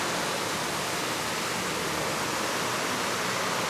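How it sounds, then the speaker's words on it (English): Rushing water near Schloss Fernstein, a centuries-old castle hotel in the Austrian Alps, a loud, unbroken broadband roar that stays even and close throughout with no voices over it. "You hear the rushing water there."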